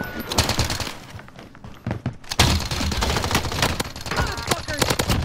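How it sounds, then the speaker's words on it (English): Sniper rifle fire and other shots in a first-person shooter video game crackle as a busy barrage of sharp reports and thuds, close and loud, with a voice talking over the action. "Oh, I got sniped, dude."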